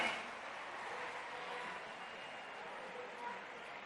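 Sustained applause from an audience welcoming Chief Minister Revanth Reddy at an Iftar gathering, a steady even wash of clapping that holds throughout at moderate distance, with no clear speech over it.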